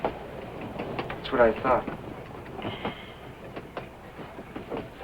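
A moving train clatters on in a 1959 film, a low rumbling ride with soft rhythmic clicks and a brief metallic squeal, mostly beneath a man's speech.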